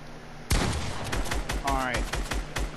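Rapid bursts of gunfire in Fortnite crack out in a dense, irregular volley, several close shots following each other with little pause, over steady game background noise.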